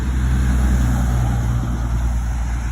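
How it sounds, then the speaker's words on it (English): A loud truck passes close by, its heavy engine rumble steady and dominant for a few seconds, no voices over it. "a loud truck going by"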